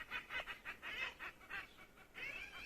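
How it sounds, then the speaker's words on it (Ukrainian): Seagulls squabble near a garden with ornamental flower beds, giving harsh, repeated squawks in quick bursts, fairly faint and at a distance, with no speech. "Чайки сваряться за щось."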